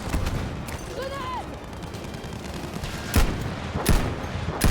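Sniper rifle shots ring out in the video game Battlefield V, with a few heavy booming reports standing out above continuous battle noise and gunfire.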